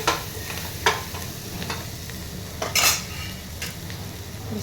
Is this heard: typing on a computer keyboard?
no